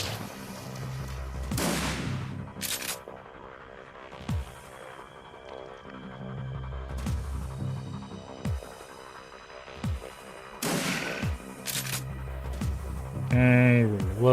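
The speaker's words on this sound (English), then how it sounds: "You see that explosion right there?" An explosion in the Shadowrun Returns video game booms amid repeated sharp gunfire bursts and impacts over a steady droning hum, with a voice briefly audible.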